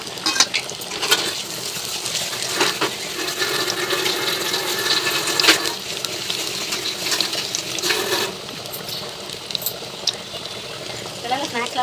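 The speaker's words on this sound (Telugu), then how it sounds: "అవి వేగేసినాయి, గోల్డిష్ కలర్లోకి వచ్చేలాగా వేపుకోవాలి" Chicken balls deep-frying in hot oil over a medium flame give a steady, dense sizzle with crackling bursts that runs the whole time at a fairly even level.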